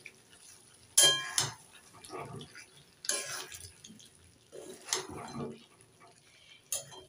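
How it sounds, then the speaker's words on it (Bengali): A metal lid clanks off a pot of chicken curry with potatoes, followed by several scraping, clinking stirs of a spoon against the pot, fairly close and spaced out. "এবার ঢাকনা খুলে দেখব। একটু নেড়ে চেড়ে দিয়ে দেব।"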